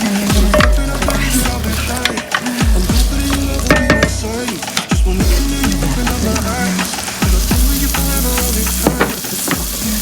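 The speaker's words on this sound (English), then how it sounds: "Now while I'm sauteing those on medium heat" Onions seasoned with salt and pepper sauté in a pan over medium heat, giving a steady, close sizzle broken by repeated scraping and stirring of a utensil against the pan, with no speech.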